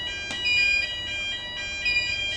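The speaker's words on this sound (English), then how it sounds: "Silence the alarm." A building fire alarm set off by a smoke test sounds close and loud, with a shrill electronic tone that pulses in repeated bursts throughout, and no voices are heard.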